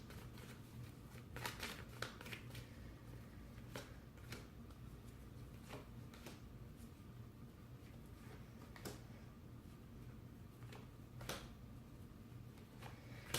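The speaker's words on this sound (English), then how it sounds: "I'm just going to pull a couple of cards for the Nine of Swords" Tarot cards are shuffled and drawn from the deck at close range, a quiet run of soft riffles and sharp little card snaps repeating irregularly over a low room hum.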